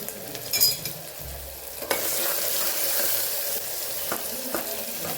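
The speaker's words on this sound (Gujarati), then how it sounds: "લસણવાળી ચટણીને આપણે સરસ સાતળી લેવાની છે." Garlic chutney with turmeric, coriander-cumin powder and salt sizzles and fries in a pan for a Kathiyawadi peas muthiya curry, with steady close frying hiss, a few stirring scrapes and clicks, and no talking.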